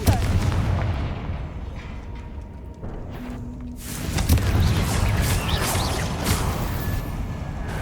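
Confringo fire-spell blasts in Hogwarts Legacy: a dense run of booming, crackling explosions that rolls on steadily, with whooshing bursts and debris-like crashes layered over a rumbling low end.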